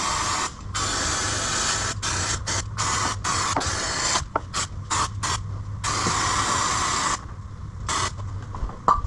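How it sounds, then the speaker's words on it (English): Brake cleaner sprayed onto the brakes of a Peugeot 206, a series of short and longer aerosol hissing bursts separated by brief pauses, close and fairly loud. "I will need to use some brake cleaner."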